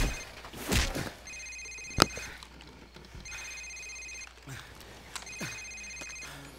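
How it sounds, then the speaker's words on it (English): A cell phone in Call of Duty 4 rings in three repeated electronic trill bursts, moderately loud, between scuffing thuds and faint background activity. "Sir, it's his cell phone."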